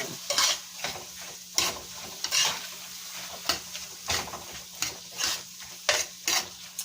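Chicken breast sizzles in a pan while a utensil stirs it in repeated scraping strokes about every half second, close and moderately loud, with no talking.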